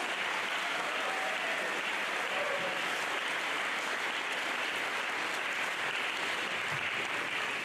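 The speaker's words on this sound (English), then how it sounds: "can we give a round of applause for these women?" A school birthday celebration audience claps steadily for the school's founding women, a dense, even wash of applause that holds for several seconds without pause, with no speech over it.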